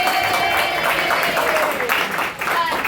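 An audience at a book launch applauds in a dense, even wash of clapping, with a voice briefly audible over it.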